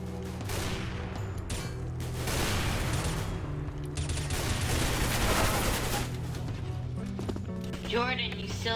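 Rapid bursts of video game gunfire crackle through a dense, busy mix of game sounds, fairly loud and continuous with layered effects throughout.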